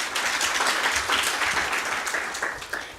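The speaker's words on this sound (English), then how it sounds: "A round of applause, please." Applause from the audience at a Kenyan moot court competition, a steady wash of many clapping hands that holds for a few seconds and begins tapering off at the close.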